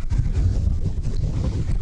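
Wind blows across open water during silver carp fishing, heard as a steady low rumbling buffet of wind on the microphone, close and continuous.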